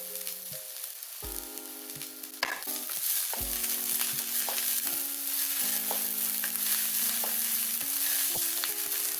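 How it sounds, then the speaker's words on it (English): Green onion whites stir-fry in hot oil in a wok, a steady sizzle running throughout with a few sharp scraping and clanking stirs, while a quiet melodic tone sounds in the background. "Add in the white parts of the green onions. Stir fry until it's slightly charred and fragrant."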